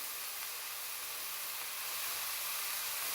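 Shrimp and langoustine heads sizzle in hot oil in a pan for a bisque, a steady, close, bright frying hiss without pause or talk.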